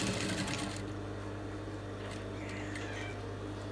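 A sewing machine runs steadily, stitching a senator-style front placket, a continuous close mechanical whir and hum that holds without a break.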